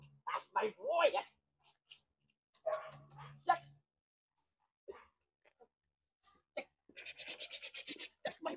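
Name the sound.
dog barking and whimpering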